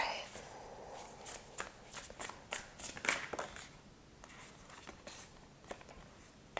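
A deck of playing cards shuffled by hand, with quick flicking riffles and a burst of rapid clicks before the sound settles into softer handling, close by.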